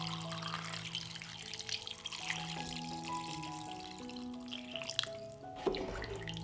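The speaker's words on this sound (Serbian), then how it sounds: "Sipat ću vodu da prekrije sve sastojke." Water poured over chopped potatoes in a cooking pot, a light trickling, dripping stream splashing steadily at close range, faint and continuous without any voices.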